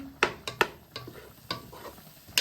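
Prawns sizzle with onion and garlic in a pan while a utensil stirs them, sharp scraping clacks landing in an irregular rhythm over a soft, steady frying hiss, close and alone.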